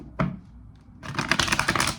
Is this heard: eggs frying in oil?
no